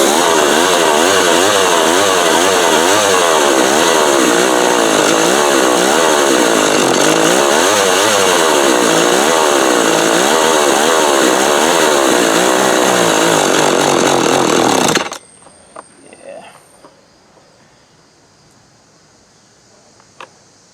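McCulloch FR2.0 chainsaw engine running loud and steady for about fifteen seconds with a wavering, surging rev, then cutting out abruptly, leaving faint clicks and handling noise.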